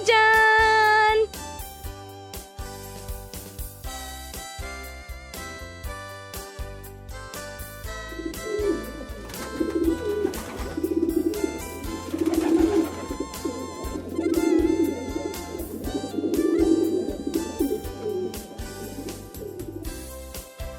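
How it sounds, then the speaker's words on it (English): A pigeon coos in soft, repeated low phrases that start partway through and continue steadily to the end, heard under light background music. "Pigeon."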